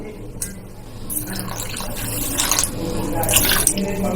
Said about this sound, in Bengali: তাতে আমি 1 কাপ মতো জল দেব।